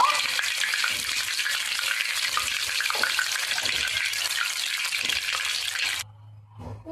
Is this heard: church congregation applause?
no